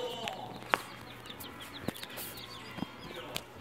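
Chickens cluck in short, scattered bursts, faint and close, over a quiet background with a few sharper peeps.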